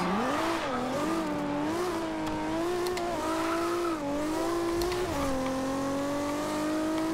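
A 1998 Toyota Supra in Forza Horizon 2 drives hard with steady engine drone rising and falling through the revs, a faint tire squeal mixed in, loud and continuous with no talking.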